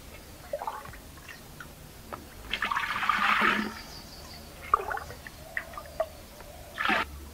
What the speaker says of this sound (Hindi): इसकी सहायता से हम मटके में पानी डालेंगे।